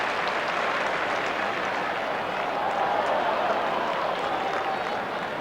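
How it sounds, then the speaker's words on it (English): A large football crowd at the MCG roars and applauds at an AFL match, a dense, steady wash of cheering and clapping that holds at the same loud level throughout. "And the crowd reacts again as they watch it on the big colour scoreboard at the MCG."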